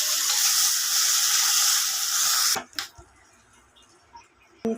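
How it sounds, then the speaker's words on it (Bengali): Koi fish frying in oil in a pan, a loud steady sizzle that cuts off abruptly partway through, followed by quiet room tone with a few brief knocks. "এখন কই মাছ ভেজে নিচ্ছি।"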